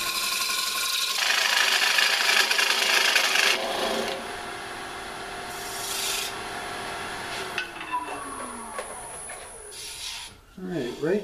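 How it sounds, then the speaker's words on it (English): A lathe tool scrapes and cuts the inside of a spinning dried cherry wood bowl, a raspy rubbing hiss in sustained passes that fades into a quieter whir as the cut lightens. "Now I'm going to come to the inside of the bowl and take it down to about 1/4 inch."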